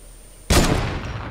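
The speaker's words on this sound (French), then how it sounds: "Déjà la balle de snipe, voilà." A sniper rifle shot in the video game Fortnite: one sharp, loud crack with a short rumbling tail that fades over about a second.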